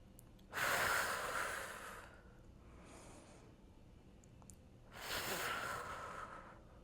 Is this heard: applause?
no